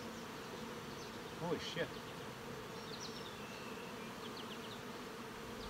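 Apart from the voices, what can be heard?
honey bees buzzing in an open hive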